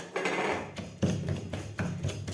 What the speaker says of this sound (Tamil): இதை போட்டு லைட்டாக 2 அடி இடிச்சுக்கலாம்.